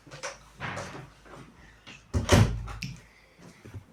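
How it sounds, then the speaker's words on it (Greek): A door is pushed shut indoors with a single solid thud midway, amid faint shuffling and handling noises, no voices heard. "Κάτσε να κλείσει την πόρτα"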